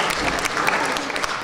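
An audience at a journalism awards gala breaks into dense, steady applause, many hands clapping together at close range without a break.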